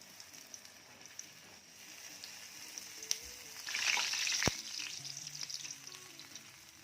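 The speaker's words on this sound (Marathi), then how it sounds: "तो वडा बघा सोडल्या सोडल्या तेलावर तरंगायला सुरुवात झालेली आहे" Medu vada batter sizzles as it drops into hot oil, a soft steady frying hiss that swells into a brighter bubbling burst midway, with a couple of sharp clinks of a ladle.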